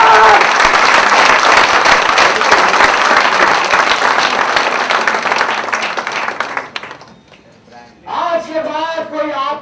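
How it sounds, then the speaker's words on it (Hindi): Loud audience applause from a crowd at a motivational stage event, sustained and dense for about seven seconds before fading, then a voice starts speaking. "एक बार जोरदार ताली साथ दीजिए"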